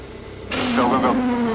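IndyCar race cars accelerating away, a sudden loud engine roar that kicks in and rises in pitch, close and sustained.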